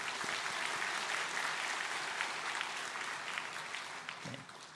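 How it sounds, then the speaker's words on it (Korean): A church congregation at a Sunday Baptist service claps in encouragement for exam students, a full, steady round of applause lasting a few seconds before it begins to taper off. "우리가 한번 수험생들을 위해서 격려의 박수 한번 하겠습니다"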